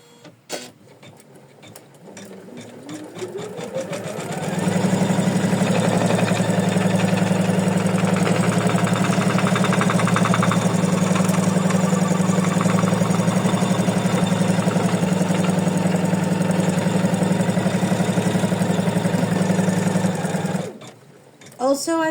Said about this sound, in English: And then we stitch the placement line.